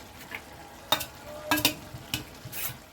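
Shredded chicken tossed into a hot frying pan for a pav bhaji, sizzling steadily under several sharp scraping stirs of a spoon against the pan, close by and with no talking.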